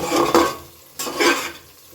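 Two strokes of a ladle drag through thick ghugni in a metal pot, each a loud, close scraping swish with a brief clang, separated by a quieter pause, and no one talks.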